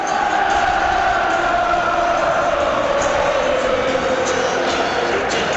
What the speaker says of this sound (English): It's the old Wembley anthem